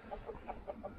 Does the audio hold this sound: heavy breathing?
no